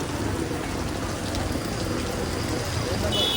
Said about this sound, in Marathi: इकडे आला आणि पाऊस चालू झाला आहे